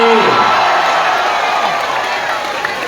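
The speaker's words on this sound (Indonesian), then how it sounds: "Kemudian tepuk tangan buat driver ojek yang pada datang di sini" A large outdoor crowd at a political rally at the MTC Nongsa complex in Batam cheers and claps for motorbike taxi drivers, a loud, dense, sustained roar with a voice briefly audible at the start.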